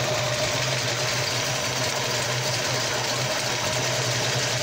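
A 1966 Ford Mustang engine idles steadily while warming up with a sticky choke, giving a continuous low rumble with a faint rhythmic tick, heard fairly close and alone, with no talking.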